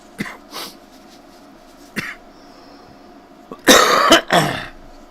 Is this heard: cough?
yes